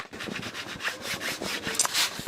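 A paper edge on a large gift bag is burnished in quick, repeated rubbing strokes, each a short scratchy swish close up, with no talking.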